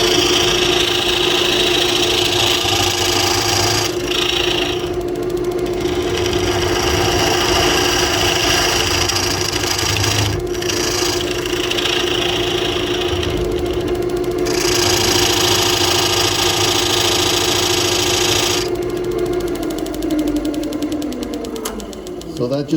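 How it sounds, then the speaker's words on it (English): A dovetail chisel cuts monkey pod wood spinning on a lathe, a steady motor hum under repeated rough scraping bursts that come and go before the machine winds down near the end. "I'll take my dovetail chisel and I'll just finish this"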